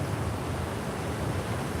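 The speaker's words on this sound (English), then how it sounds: "And that extra noise you hear, raindrops, big ones, coming down." Heavy rain of large drops comes down beside railway tracks, a steady broadband wash of pattering that stays close and unbroken for the whole moment.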